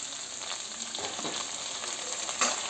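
Chopped onions and green chillies frying in hot oil for a pork fry, giving a continuous close hiss and sizzle with a brief stir or clatter near the end and no talking.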